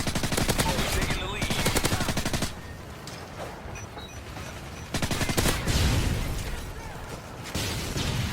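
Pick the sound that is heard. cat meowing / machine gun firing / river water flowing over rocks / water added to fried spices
machine gun firing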